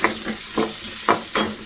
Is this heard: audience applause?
no